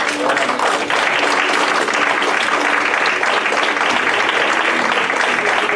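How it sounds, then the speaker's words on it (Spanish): Sustained, dense applause from a large church congregation, steady and loud throughout without a break. "Un aplauso al Señor."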